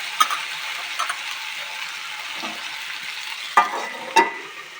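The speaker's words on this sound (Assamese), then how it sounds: "আকৌ অকণমান সময় ভাজি লওঁ।" Magur catfish and kohlrabi fry in a pan with a continuous soft sizzle, broken by a few sharp clacks and scrapes from stirring, most prominent near the end.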